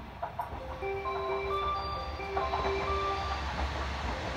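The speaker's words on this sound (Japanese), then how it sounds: "2番乗り場に列車が参ります 危ないですからご注意ください" A JR Kansai Main Line train arrives at the platform of Iga-Ueno Station in Japan, rumbling steadily with rail clatter and a faint high squeal, continuous and fairly close, with no talking.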